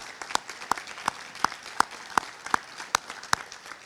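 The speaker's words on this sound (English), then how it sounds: "let's give them a round of applause" Evenly spaced, crisp claps ring out at a steady rhythm, about ten in all, over a faint background as a graduation ceremony audience applauds.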